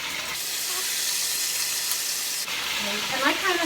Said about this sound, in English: now I'm going to add the crushed tomatoes that I told you about